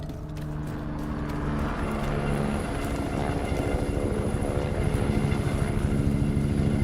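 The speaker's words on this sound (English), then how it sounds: "Watch the helo" A helicopter flies overhead in The Division 2, a steady rotor thrum that slowly grows louder and closer, with no one talking.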